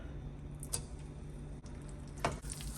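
Butter melting into hot extra virgin olive oil in a pan for Jamaican-style steamed mussels gives a faint, steady sizzle, broken by a few small clicks and taps from the pan.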